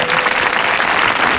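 Brief burst of dense audience applause welcoming a one-man show performer, loud and even clapping from a crowd throughout.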